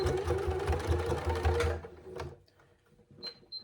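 A sewing machine runs a steady stitching burst along the open edge of a strap at a narrow seam allowance, then stops, leaving a few faint clicks and a brief high whine.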